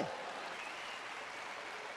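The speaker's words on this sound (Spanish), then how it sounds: "Aplaudan eso" Applause from a church audience, a steady, soft wash of clapping that holds for about two seconds.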